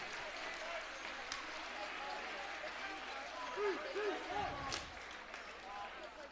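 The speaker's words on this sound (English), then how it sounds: "As they get a standing ovation from the crowd." Crowd at a high school boys basketball game giving a standing ovation, steady applause and cheering filling the gym while a commentator talks over it.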